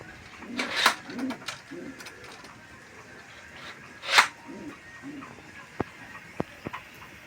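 Taiwan racing pigeons at a bird sale coo and flutter softly at close range, with a couple of louder bursts of wing flapping and a few sharp clicks from the birds or their handling.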